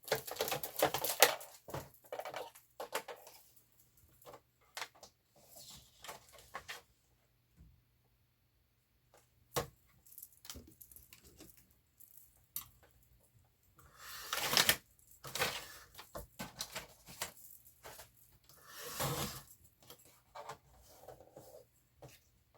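Scissors cut paper pockets for a handmade folio journal in bursts of snipping and rustling handling, quiet and close, with pauses of near silence between cuts.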